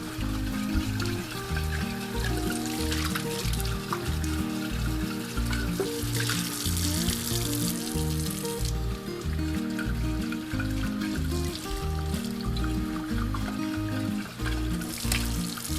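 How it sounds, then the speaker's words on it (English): Hot tap water runs and splashes into glass jars being rinsed, a steady full gush with shifting clinks and sloshes as each jar fills and empties, close and continuous. "now I'm gonna rinse out each one of these jars with hot water."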